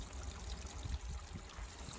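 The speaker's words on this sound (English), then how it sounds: "So the water is making its way out from under the mountain," Spring water trickles and gurgles out from under a mountain through a mossy, rushy patch near the sea, a close, steady babbling stream with no voices.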